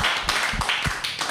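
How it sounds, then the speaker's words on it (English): A short burst of clapping from a small group, quick uneven claps close by. "Give him a round of applause."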